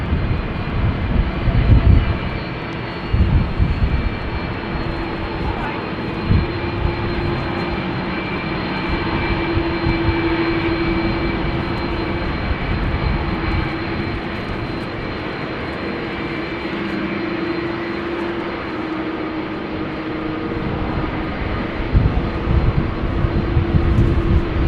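Turkish Airlines jet taxiing at Amsterdam Schiphol Airport in wet, windy weather, a steady broad engine roar with a faint whine, sustained and moderately distant, with gusty wind noise and no talking.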